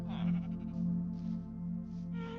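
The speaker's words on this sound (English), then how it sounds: "the shepherd has his own sheep that he takes care of" A sheep in the Minecraft video game bleats, a drawn-out wavering baa with a strong buzzy pitch, fairly close and alone, lasting about two seconds.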